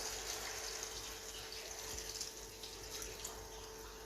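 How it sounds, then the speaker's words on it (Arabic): Water runs into a cooking pot of meat and chickpeas, a soft, steady pouring wash heard faintly and alone with no voices. "je rajoute de l'eau"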